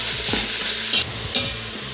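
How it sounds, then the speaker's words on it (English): Ground beef and Italian sausage brown in olive oil with a loud, close, continuous sizzle, and a spoon scrapes and stirs the pan with periodic louder bursts. "So we just wanna start by browning up this beef and this Italian sausage."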